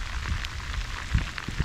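Rain falling on a farm in Portugal during a stormy spell makes a continuous soft patter with scattered closer drops tapping on a surface, steady and unbroken with no talk.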